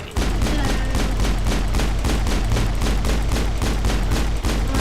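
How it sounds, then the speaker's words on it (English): Sustained rapid automatic gunfire in the video game Mass Effect 1, a loud, dense and evenly paced burst of shots running the whole time with no pauses. "Ash, will you stop shooting at me?"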